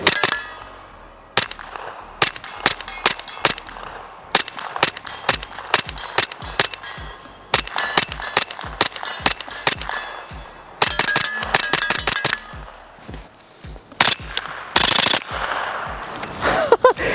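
AKV airsoft gun fired with a PSA magazine, loud close sharp metallic reports in quick irregular strings and single shots, with ringing clangs between bursts.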